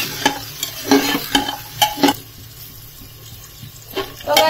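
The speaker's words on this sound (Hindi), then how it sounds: "हमारे जो टमाटर है वो अच्छे से भून चुका है, उसे अच्छे से ऐसे और भून लेंगे दबा दबा के।" Tomatoes fry in a pan while a spoon stirs and presses them, giving irregular scraping knocks over a soft sizzle, then a quieter stretch of gentle frying near the end.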